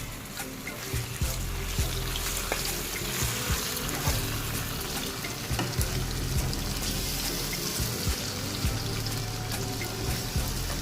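Chicken pieces frying in a pan for Singaporean rice, a steady dense sizzle and hiss running throughout with faint scattered crackles and clatters, close and constant with no talking.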